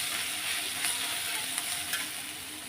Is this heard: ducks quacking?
no